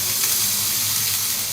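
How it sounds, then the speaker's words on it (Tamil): Grated ginger and garlic frying in hot oil in a pan, a loud continuous hiss and sizzle that stays even throughout, close up with no voices. "எண்ணெயில போட்டுட்டு லைட்டா வந்து ஃப்ரை பண்ணிக்கலாம்."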